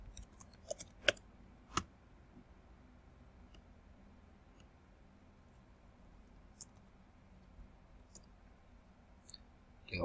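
Computer mouse clicks while working in report scheduling software, a few sharp isolated clicks near the start and end over a quiet background, with no talking.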